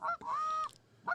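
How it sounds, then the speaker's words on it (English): A goose honks three times in quick succession, loud and close, each call a nasal rising blare, with a brief quiet gap before the last. "and that's a goose"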